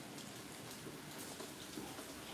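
Heavy rain pours steadily onto an outdoor patio, a dense, even hiss of drops striking the hard surface, continuous and fairly close with no voices over it.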